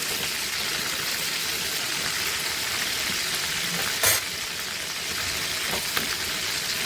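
Chicken pieces frying in a pan for a Bengali chicken roast, a dense continuous sizzle with a brief louder burst near the middle and a faint clink later, with no voices.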